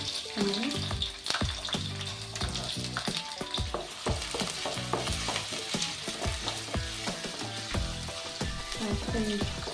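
Mustard seeds, cumin and chopped onion fry in hot oil for a Telugu-style chamagadda fry, giving a loud, steady sizzle with frequent crackling pops and stirring scrapes throughout, with no talking.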